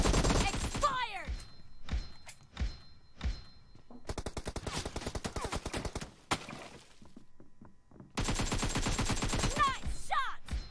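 Gunfire from the mobile game PUBG Mobile crackles in rapid automatic bursts and scattered single shots, loud and close, with long sustained volleys and brief pauses between them.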